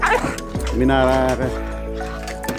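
A dog at a lamp post yelps and whines in agitated, wavering bursts, close and fairly loud, with a person talking over and between the cries.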